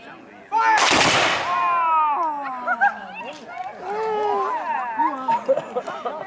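A single loud musket volley fired at a historical firing drill at Moira Furnace Museum, one sharp crack followed by echoing decay and a dog whining and barking afterward.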